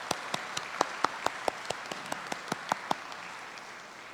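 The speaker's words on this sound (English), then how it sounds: "let us give a big round of applause to our very special guest this morning" An audience at an International Day of Yoga celebration hosted by the Consulate General of India in Chicago gives a special guest a round of applause: distinct, evenly spaced claps over a steady wash of crowd clapping, fading toward the end.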